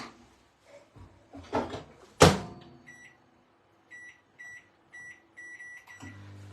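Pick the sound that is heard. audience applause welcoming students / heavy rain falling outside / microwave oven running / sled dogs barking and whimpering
microwave oven running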